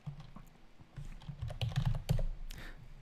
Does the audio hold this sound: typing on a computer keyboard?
yes